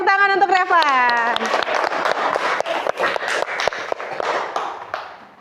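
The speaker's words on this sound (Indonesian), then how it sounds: "Tepuk tangan untuk Revan." Students in an Indonesian primary school science classroom break into a burst of clapping that builds quickly, with scattered hand claps and children's voices, then fades out near the end.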